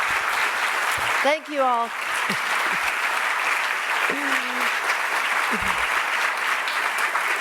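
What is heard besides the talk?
audience applause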